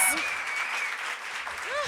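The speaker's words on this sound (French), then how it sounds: "On applaudit Eros, tout le monde." A live comedy audience in Montreal gives a short, dense burst of applause lasting about two seconds, with voices speaking over it at the start and end.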